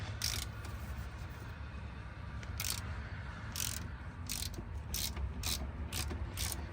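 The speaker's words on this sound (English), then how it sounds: "So now we can get the fill plug right here off, and it's a 3/8 ratchet." A 3/8 ratchet loosening the differential fill plug on a 1994-2004 Ford Mustang, a run of about nine short, close clicking bursts over a low steady background hum, with no talking.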